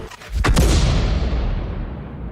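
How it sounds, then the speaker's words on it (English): An FV304 self-propelled artillery gun in a tank video game fires a shell: one loud, close boom followed by a long, fading rumble. "Look at that round arcing through the sky, high parabolic force."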